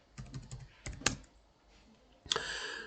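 A password is typed on a computer keyboard in short bursts of close, crisp key clicks, with brief pauses between groups and a flurry of taps at the end; no one speaks.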